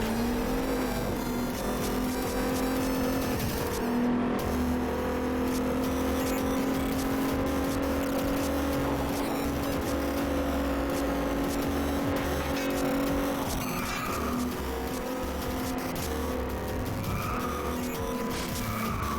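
Race car engine droning steadily in the FlatOut 2 video game, with skidding tires and scraping crashes layered over a constant loud roar throughout, no talking.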